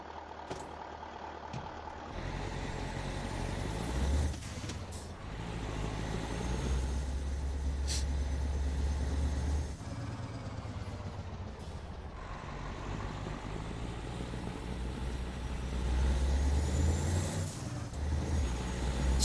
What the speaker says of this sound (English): It's got a nice throaty exhaust note.